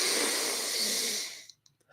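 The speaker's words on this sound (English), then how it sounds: "we breathe deeply from our belly into our chest, and then we let it go" Deep belly breathing during a breathwork session, a long steady airy exhale that fills most of the moment, then trails off into near silence with a couple of faint soft breaths at the end.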